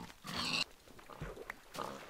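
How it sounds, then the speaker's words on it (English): Pigs in Minecraft give a few quiet, short grunts at uneven intervals, faint and somewhat distant. "Pigs over here."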